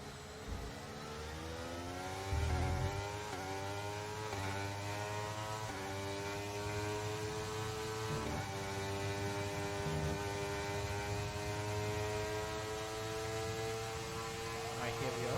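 A Formula 1 race car engine in the F1 23 video game revs hard and climbs steadily in pitch, a loud, continuous high-pitched whine with a low background hum underneath.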